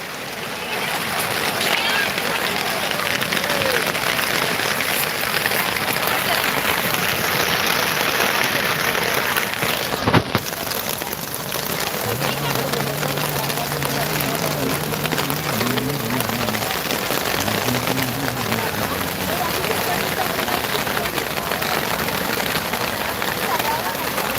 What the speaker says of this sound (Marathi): पुन्हा एकदा या ठिकाणी पाऊस जोरात सुरू झाला आहे